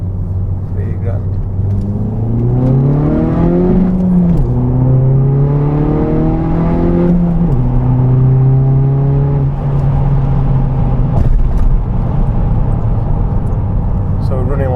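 A tuned Audi A3 BKD Quattro, 360 horsepower and 475 foot-pounds of torque, pulls hard in second gear from around 3,000 rpm, the loud engine note climbing steadily, then settling and rising again, heard from inside the car.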